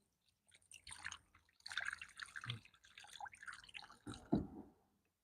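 Water from a tap rinses the salt off sliced cucumbers, dripping and splashing in irregular bursts, fairly close and moderately faint, with no talk over it.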